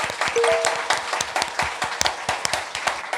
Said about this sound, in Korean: 여러분의 뜨거운 박수로 출발하겠습니다